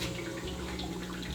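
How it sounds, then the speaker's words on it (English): Many jars of fermenting kombucha gurgle and bubble continuously in a room, a dense, steady aquarium-like fizz and burble throughout, with no talking. "It sounds like the aquarium at the pet store in here. We got all these bubbling away."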